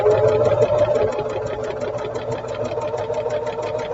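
A sewing machine stitches a quarter-inch quilt seam. Its motor hums loudly and evenly with a rapid, regular needle rhythm throughout, close by and with no talking over it.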